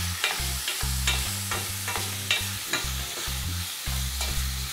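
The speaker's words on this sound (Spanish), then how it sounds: "Es sellarlo un poquito, aprovechar los jugos que va alargando la carne." Beef loin sears in a hot pan while a wooden spoon stirs and scrapes it, sizzling steadily with repeated sharp scraping strokes, close and fairly loud, with a low humming tone underneath and no talk.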